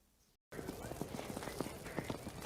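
A horse gallops in a film chase scene, its hoofbeats a steady run of clip-clop thuds close to the microphone after a brief silence, carrying on alone without talk.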